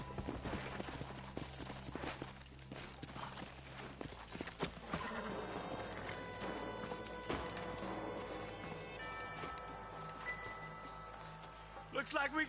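Several horses clip-clop along in the video game Red Dead Redemption, hooves thudding in a steady close rhythm with a whinny mixed in, under background game music and ambient sounds.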